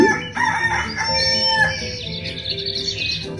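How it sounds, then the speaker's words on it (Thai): A rooster crows loudly and close by, a strained, stretched call with bright overtones, mixed with some chirping and clucking from other fowl. "เสียงไก่ขัน"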